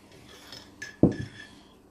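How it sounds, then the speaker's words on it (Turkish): A metal spoon scrapes and clinks against a cup while stirring a homemade cough remedy mixture, a few light scrapes followed by one sharper knock and a short rattle, close and fairly quiet. "Şimdi Miracığım karıştıralım bunu güzelce. Benim kaşığımla karıştır."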